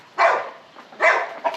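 A dog on a farm gives two sharp barks close by, followed by a third shorter bark, with brief quiet gaps between them and no talking.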